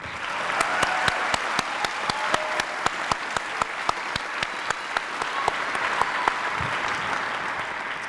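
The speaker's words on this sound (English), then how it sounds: "could we please have a round of applause for the orchestra and the choir" A graduation crowd gives sustained applause for a high school orchestra and choir, steady and fairly distant, with a few sharper individual claps standing out in a regular pattern through the wash.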